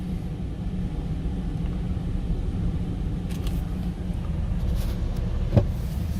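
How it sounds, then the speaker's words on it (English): A 2015 Ford Expedition EL Platinum cruising on the highway, heard as a steady, loud low-frequency road and engine rumble that holds evenly throughout, with a brief faint click near the end. "And now we'll take it up to the highway, put a few miles on it"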